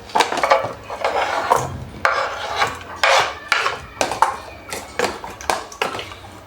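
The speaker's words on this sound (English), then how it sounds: "Whisk that away." Eggs being whisked with curry powder in a bowl in a home kitchen, heard up close as quick, rhythmic scraping and tapping strokes against the bowl, alone without any talk.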